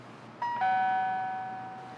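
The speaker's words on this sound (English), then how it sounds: "The doorbell rang." A two-tone doorbell chime rings once, a higher note followed by a lower one that rings out and slowly fades, with no one talking.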